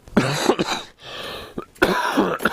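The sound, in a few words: cough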